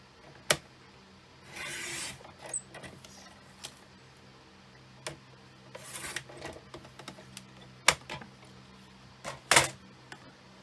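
Paper being cut to two inches for a scrapbook tag, heard as scattered faint clicks, taps and short slicing or rubbing sounds spread out with quiet gaps between them.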